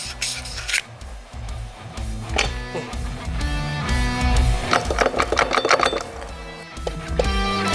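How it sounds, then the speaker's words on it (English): A metal file works out a tight bushing on a sun gear, with close, uneven rasping strokes and scraping clatter, irregular in rhythm with no voices. "I'm gonna have to try and file that bushing out."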